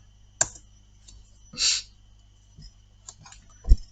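A few sparse, separate clicks of keys on a computer keyboard, one a firmer press like the enter key, close and fairly quiet with gaps between them, no voices.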